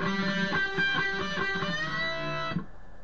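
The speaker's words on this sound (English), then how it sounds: "Then you want to turn on the wah and make it go like this." Electric guitar run through a wah pedal, its sweeping vowel-like tone shifting over a sustained riff in a solo, playing steadily for about two and a half seconds before cutting off into near silence.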